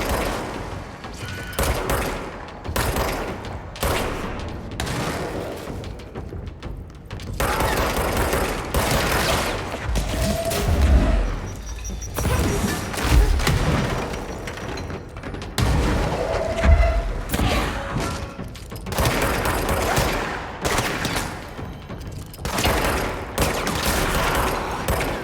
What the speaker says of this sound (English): So you basically have a grenade launcher, just constantly tossing grenades